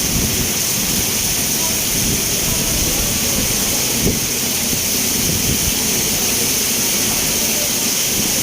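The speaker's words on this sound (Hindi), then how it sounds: "अल्लाह पाक की रहमत हो रही है बारिश" Heavy rain pours on a road during a downpour, a dense, unbroken hiss with a faint low rumble underneath and a soft knock partway through.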